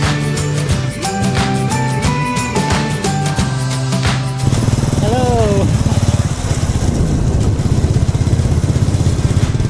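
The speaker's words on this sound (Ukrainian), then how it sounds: "Отакі от малолеточки їздять собі вільно на мопеді, без шоломів по Таїланду" A moped ridden by children through Thailand passes with a buzzing two-stroke-like engine drone that grows louder and steadier midway, preceded by music-like tonal sounds and accompanied by nearby chatter.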